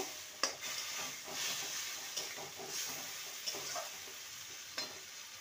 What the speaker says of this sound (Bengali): এবার সাদা তিল বাটা আর পোস্ত বাটা একসঙ্গে বেটে রেখেছিলাম, সেটা দিয়ে দিলাম। ভালো করে কষিয়ে নেব।